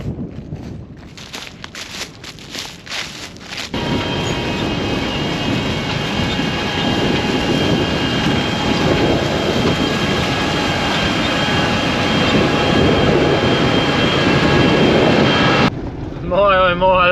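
A tractor pulls a seeding rig across a field during autumn seeding in Australia, a steady broad engine drone rising at about four seconds and holding close and loud, with wind buffeting the microphone.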